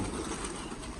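Pigeons coo softly at evening feeding time after rain, a low murmuring burble with faint rustling, heard at a modest distance with no voices.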